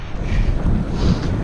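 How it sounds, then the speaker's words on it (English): Strong wind buffets the microphone while big waves churn around a small boat being anchored single-handed, a loud, steady roar of rushing air and water with its engine running. "Big waves."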